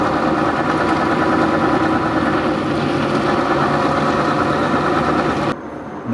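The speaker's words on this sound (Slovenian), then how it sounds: "Potem je počasi peljal proti glavni cesti, da se motor segreje." A Renault Magnum truck rolls slowly toward a main road while its engine warms up, giving a loud, steady, close diesel drone with no voices, which cuts off abruptly near the end.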